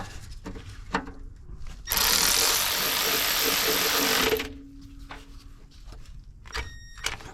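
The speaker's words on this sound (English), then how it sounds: "These power ratchets make this job way easier." Power ratchet spinning out starter bolts on a Roadmaster, Caprice, Camaro, Fleetwood or Firebird, a loud, close whirring burst lasting about two and a half seconds, framed by quieter clicks and clanks of tools.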